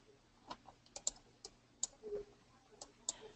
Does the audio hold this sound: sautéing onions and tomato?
no